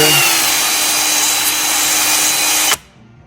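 A power drill fitted with a wire wheel brush scrubs buildup off the wheel hub of a 2015 Chevy Malibu 2.5 four-cylinder. It makes a loud, steady, harsh whir for almost three seconds, then stops abruptly, with no talk.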